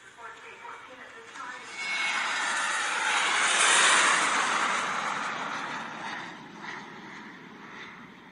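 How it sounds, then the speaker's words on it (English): A broad roaring drone of an airplane engine swells up, holds loud through the middle, then gradually eases off. "Kipper and his friends went on the aeroplane to Switzerland."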